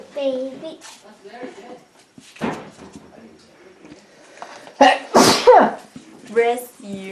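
A person sneezes sharply mid-clip at a Christmas tree-trimming gathering, a loud burst between snatches of nearby conversation and a voice.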